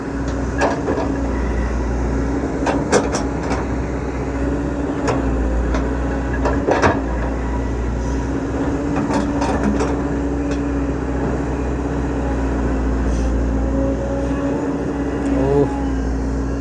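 A tractor bulldozer pushes and clears soil, its engine droning steadily with scattered sharp knocks and clanks of the blade and earth throughout.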